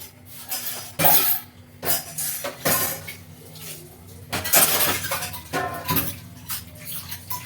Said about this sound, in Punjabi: ਜਦ ਤੱਕ ਆਪਾਂ ਧੋਦੀਏ ਭਾਂਡੇ